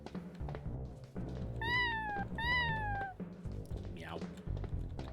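A cartoon cat in a video game gives two long, bending meows in a row, followed by a shorter rising mew, played over a steady game background hum with a few soft thumps.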